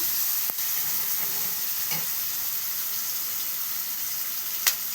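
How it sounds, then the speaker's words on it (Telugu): Onions and tomatoes fry in a pan with a steady, close sizzle, marked by a few light stirring scrapes and one sharp clink near the end. "దోరగా ఎర్రగా వేగనివ్వాలి. ఉల్లిగడ్డలు, టమాటాలు మొత్తం మగ్గాయాలి."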